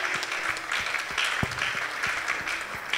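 Church congregation applauding in acclaim of the Lord, a steady sustained wash of many hands clapping with no voices over it.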